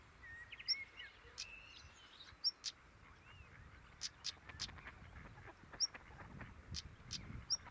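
Flocks of ducks on the Hungarian Great Plains in summer heat make scattered quacks and honks at a distance, faint and spread across the clip over low background noise, with occasional sharper calls.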